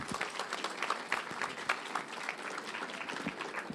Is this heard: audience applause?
yes